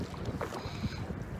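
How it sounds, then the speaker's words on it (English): A rowboat is rowed on a river after its motor broke down, heard as soft water movement and faint strokes under blustery wind noise on the microphone. "My brother BB is rowing."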